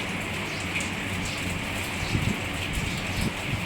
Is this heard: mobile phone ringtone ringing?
no